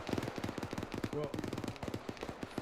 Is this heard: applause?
no